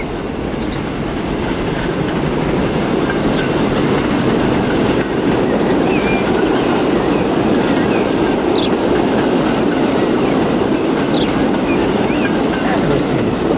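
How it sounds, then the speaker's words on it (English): A train passes in the railway game Transport Fever 2, a loud, steady rolling roar with faint clickety-clack of wheels that stays constant throughout, with a voice talking underneath. "we'll just wait for this train to go past"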